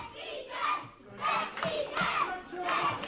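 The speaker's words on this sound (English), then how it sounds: "the crowd loves Sexy Kev here" Live wrestling crowd at an independent show cheering and shouting in rolling waves, loud and close, with a commentator talking over it.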